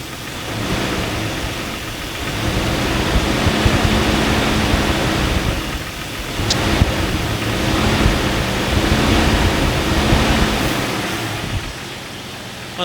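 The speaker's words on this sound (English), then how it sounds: "This noise could be easily mistaken for a piston slap." A car engine runs steadily with a knocking noise coming from the middle of the engine block, a sound easily mistaken for piston slap; its loud, dense roar swells and dips over several seconds with no talking.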